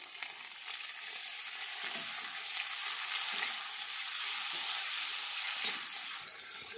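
Tomatoes sizzle and fry in a hot pan as the base for a fish curry, a steady hiss with faint stirring scrapes running throughout, close and continuous with no talking.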